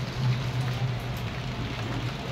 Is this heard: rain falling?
yes